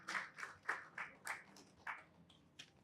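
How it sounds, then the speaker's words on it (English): Applause from an audience at a Nigerian live-streamed event, heard as a sparse, rhythmic patter of claps, fairly faint and unsteady, with no voices over it. "Can we give her a round of applause?"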